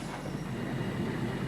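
A 1979 coal train's wagons roll slowly along the rails on the return run to the colliery, a steady low rumble with faint wheel noise, moderately quiet and continuous.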